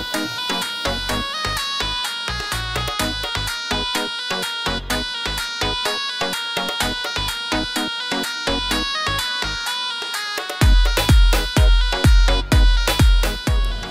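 A mobile phone rings unanswered, its melodic ringtone looping loud and close with a steady repeating pattern, growing fuller and stronger toward the end.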